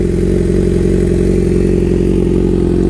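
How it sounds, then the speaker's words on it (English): A Suzuki GSX-R 750 K5 motorcycle with a full race exhaust idles loud and close with a rough, throbbing exhaust note, steady throughout with no talking. "that is a lovely race fit exhaust"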